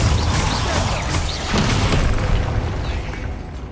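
Spell explosions in Hogwarts Legacy, a dense continuous roar of loud booms and crashing bursts that fades slightly toward the end, with no voice over it.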